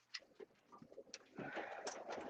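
Pigeons coo softly while pecking at corn, several low murmuring calls and faint scratchy feeding sounds close by, with no talk over them.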